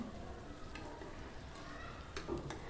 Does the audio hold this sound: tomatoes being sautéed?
yes